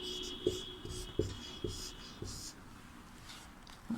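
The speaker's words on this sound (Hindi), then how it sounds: "और इसमें जो है अर्थ हम लोग लिखेंगे यहाँ पर" Chalk writes on a classroom board in a Class VIII Sanskrit lesson, giving a series of distinct taps and short scratchy strokes at an irregular pace, close and fairly faint, with light background noise.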